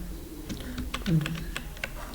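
Keys tapped on a computer keyboard while working in Microsoft Word, a series of quick, light clicks in an uneven rhythm, close by, with a voice talking softly beneath them.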